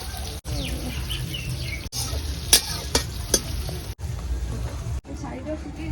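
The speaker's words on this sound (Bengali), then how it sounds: "এটা বেরাস্তার পেঁয়াজ ভাজার জন্য পেঁয়াজটাকে ভেজে নিচ্ছি" Sliced onions frying in hot oil for birista, a steady near sizzle running throughout with a few sharp clatters and brief cuts, faint bird chirps in the background.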